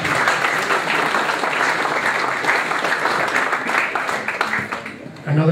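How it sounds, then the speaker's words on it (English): Dense, sustained applause from an audience at an awards night, steady and loud throughout, with voices mixed into the clapping and a brief dip near the end. "So a round of applause for Jarrett."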